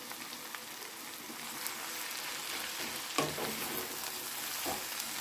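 Washed, chopped fresh spinach hits a hot pan and sizzles with a steady, bright hiss, plus a soft thump or stir near the middle and no talking.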